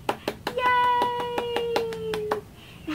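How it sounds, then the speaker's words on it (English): Hands clapping at a baby story time, about nine crisp claps in a steady rhythm, with a sustained voice carrying over them before fading into quieter room sound. "Can you clap your hands with me?"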